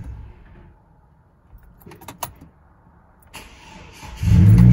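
A lowered Chevy Colorado shop truck with a freshly charged battery cranks briefly after some faint clicks and rattles, then its engine catches and settles into a loud, steady idle nearby.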